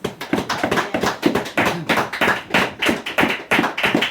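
Audience applause at a live comedy or music show, a steady run of sharp, fairly close hand claps that keeps going at an even rhythm for several seconds without pause.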